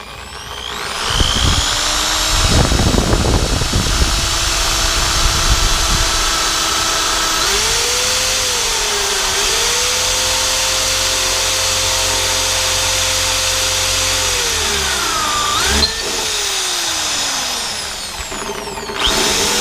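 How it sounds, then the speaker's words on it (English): A power drill bores holes for LED reverse light pods, a loud, close, sustained motor whine with shifting pitch that runs for about twenty seconds, with no talking. "Alright guys, so we drilled 3 holes so far. And I'm about to show you the 4th one here."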